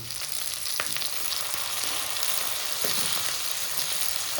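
Tomatoes fry in a pan with a pinch of turmeric, making a dense, even sizzle that runs throughout at close range, with a few faint stirring knocks and no speech.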